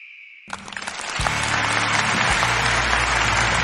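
Victory applause in the video game Broforce swells in after a brief tone, becoming a dense, loud, continuous clapping crowd over low game music.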